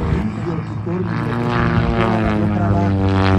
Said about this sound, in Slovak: predvádza minimálnu rýchlosť, kedy toto lietadlo je plne schopné ovládania